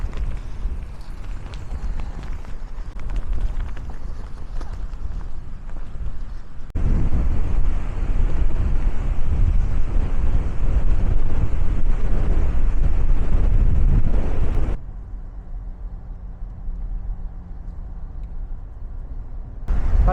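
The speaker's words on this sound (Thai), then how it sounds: "มันก็ยังลมแรงอยู่ดี" Strong wind buffeting the microphone at Muizenberg beach near Cape Town, a loud continuous roar of gusts that swells and drops abruptly in intensity, with no speech.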